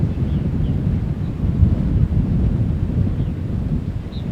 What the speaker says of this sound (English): Waiting for a lull in the wind, because it's coming down at him as a headwind.